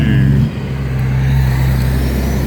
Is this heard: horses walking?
no